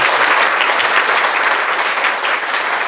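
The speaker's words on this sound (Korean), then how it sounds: "정말 박수 한번 자," Dense, loud applause from a seminar audience at a church fills the space, a steady wash of many hands clapping with no pauses.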